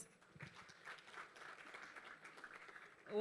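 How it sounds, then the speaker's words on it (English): Faint, steady audience applause after a talk at a joint CSO conference, a soft continuous patter of many hands from a distance for a few seconds. "Applause."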